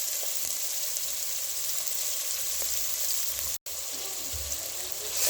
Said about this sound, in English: we will allow the onions to turn golden brown